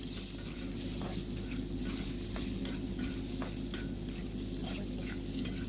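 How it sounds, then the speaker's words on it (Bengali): Paneer frying in hot oil, a steady close sizzle with faint scrapes of stirring and a constant low hum underneath, even in level throughout. "এর মধ্যে পনিরগুলোকে ফ্রাই করে নিতে হবে"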